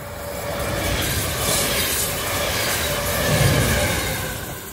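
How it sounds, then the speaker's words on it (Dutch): A train runs past on a railway line close by, a steady loud rushing rumble of wheels on track with faint squeal and clatter building and easing across the pass. "Aan treinen aan het kijken. En volgens mij komt er eentje zo aan."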